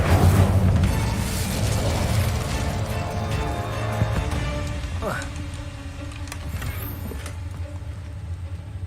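Incendio fire spell cast in the Hogwarts Legacy video game, a heavy whooshing rumble of flame that swells and then fades, with a short rising magical tone partway through and a game character's voice speaking over it.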